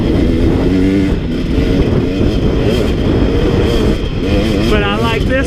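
A Sherco or KTM 300 two-stroke dirt bike engine runs loud and close, its pitch rising and falling as it revs through the ride, with wind buffeting and a voice talking over it.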